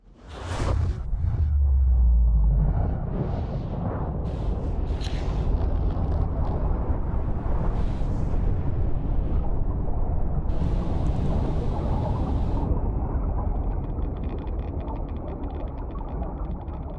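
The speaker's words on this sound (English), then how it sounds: "Might as well watch the explosion of the Aurora." The spaceship Aurora explodes in Subnautica with a sharp whoosh and deep booming roar, then a long rumbling, crackling aftermath that slowly fades with metallic debris sounds.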